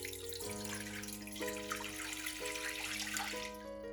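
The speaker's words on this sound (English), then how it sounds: "place a pot on the stove and add about 1 bowl of water" Water runs steadily from a tap into a pot on a stove, a continuous splashing flow with the pitch shifting slightly as the vessel fills.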